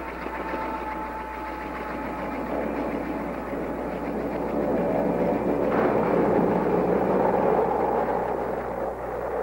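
Military aircraft engines drone over the Khe Sanh combat base in Vietnam in 1968, a steady broad rumble that swells a little louder partway through, with no talk.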